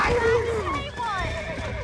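Horse in Red Dead Redemption 2 lets out a loud, falling whinny, then more neighing cries trail off under a voice talking.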